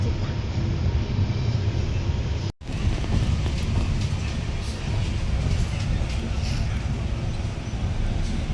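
Steady rumble of a moving train heard from inside a carriage, loud and continuous with wind noise, broken by one brief cutout near the start.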